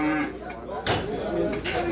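Cattle at the Gölyaka livestock market, 2024, give two loud, close moos, each a broad burst, over a steady bed of market murmur and shuffling.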